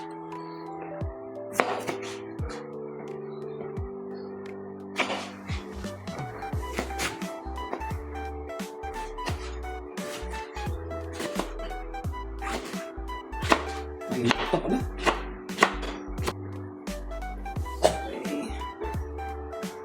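A knife chops through fried, cooled tilapia on a board in a home kitchen, with repeated sharp irregular cuts over a steady background hum and a brief spoken remark.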